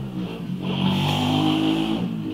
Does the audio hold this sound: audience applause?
no